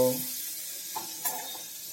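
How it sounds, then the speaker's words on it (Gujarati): A vegetable frankie roll fries in butter in a pan on low heat, giving a soft steady sizzle with a couple of light stirring or scraping clicks, heard close with no talking. "ધીમા તાપથી બટરની અંદર આ રીતે આપણે તળીને તૈયાર કરી લઈશું મિત્રો"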